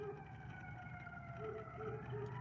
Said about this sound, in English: ambulance going past